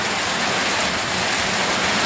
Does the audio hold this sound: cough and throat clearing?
no